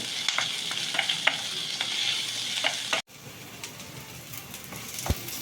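Onion, green chilli and garlic sauté in a pan with a dense crackling sizzle and repeated stirring scrapes. The sound drops abruptly partway through and continues more quietly, with one sharp knock near the end.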